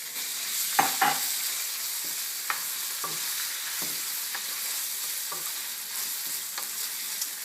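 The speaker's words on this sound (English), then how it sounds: "we just really want to warm the Indian base through with the garlic and the chili and the cumin" Garlic, chili and cumin frying in a pan, a soft continuous hiss of sizzling oil with scattered light taps of a utensil stirring.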